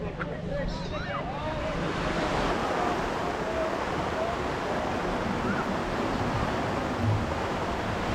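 Steady surf rolling onto a beach during a hurricane, a loud continuous wash of breaking waves with gusty wind buffeting the microphone throughout.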